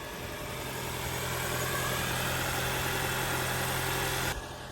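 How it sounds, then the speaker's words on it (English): A car engine idles steadily after a jump start, a constant close rumble with a low hum, running on for several seconds before it cuts off abruptly near the end. "we used the jumper to jump it, so it's on, and it sounds normal-ish."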